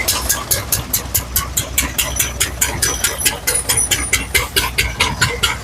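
A tractor-powered groundnut thresher works a heap of harvested peanut plants, its engine and drum beating out a loud, steady run of rapid rhythmic thumps and clatter close by.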